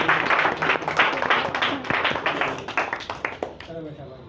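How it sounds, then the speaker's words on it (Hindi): An audience at a yoga championship event claps to welcome the chief guest, with uneven bursts of hand claps that thin out toward the end while a voice speaks over them. "सभी तालियां बजाएंगे।"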